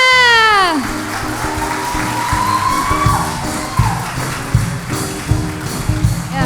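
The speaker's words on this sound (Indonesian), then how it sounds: "Beri tepuk tangannya yang" An audience at a film screening event claps and cheers as a sliding musical sting fades out, then scattered applause with some whoops carries on under background music, moderately close.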